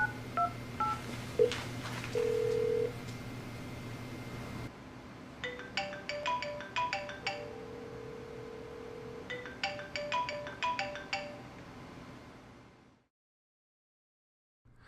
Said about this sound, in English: 469-365-3938, the call will be sent to my mobile phone.